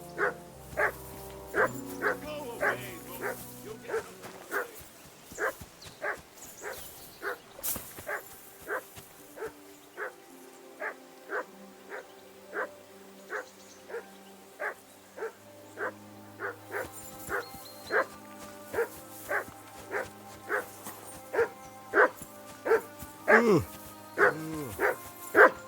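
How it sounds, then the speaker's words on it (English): In the game Kingdom Come: Deliverance 2, a dog barks persistently in a long steady run of regular yaps, one after another, over quiet ambient tones, with a brief voice near the end. "I assume you can hear that damn dog of yours barking."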